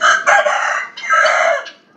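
Rare show-breed chickens kept for breeding crow and cluck together at close range, with a loud, drawn-out rooster call rising and falling over steady hen clucking for the whole stretch.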